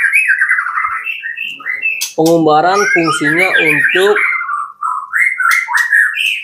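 A tame white-rumped shama (murai batu) gives sharp, clear whistled calls in repeated short phrases, close and bright, while someone talks over part of it.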